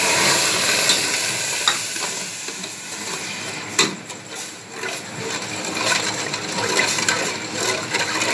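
A spoon stirs milk and sugar in a pot for a sweet rice dish, a steady scraping swirl with soft liquid sloshing and a few sharper clinks, close and continuous with no talking.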